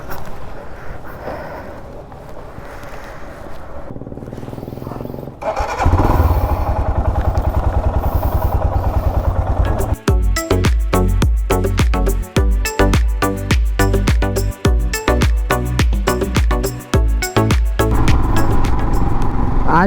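A loaded touring motorcycle starts up and pulls away: a quieter stretch, then the engine catches and settles into a loud, steady run with rhythmic thumps and clatter as it rides out, close by throughout.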